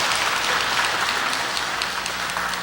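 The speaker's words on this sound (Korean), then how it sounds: "우리 환영과 감사의 박수 하나님께 올려드리겠습니다" A church congregation claps together during a Sunday worship service, a dense, steady wash of applause that fills the room at moderate loudness throughout, with no voices on top.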